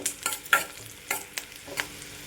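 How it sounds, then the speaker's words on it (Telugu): Raisins, cashews and coconut fry in ghee for chakkara pongali, with a soft background sizzle broken by several distinct scraping stir strokes of a spoon against the pan, close and loud. "కిస్మిస్ తొందరగానే వేగిపోతాయి."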